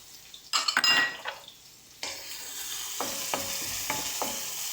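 Onions, green chillies and garlic hit hot oil and are stirred in a pan: a burst of metallic clatter and utensil scraping, then a steady sizzle punctuated by a few sharp taps of the spoon.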